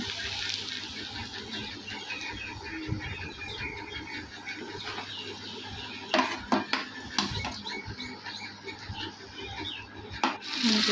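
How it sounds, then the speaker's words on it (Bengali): A spoon scrapes and stirs potatoes with cumin and panch phoron in a pan, soft steady rubbing and sizzling close by, with a few sharper metallic clinks toward the end. "জিরে দিয়ে পাঁচ ফোটন দিয়ে আলু নাড়া হচ্ছে।"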